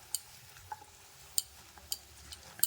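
Bottle gourd and three green chillies are sautéed in a pan, a faint, steady sizzle punctuated by sharp, irregular spatula taps and scrapes, with no talking.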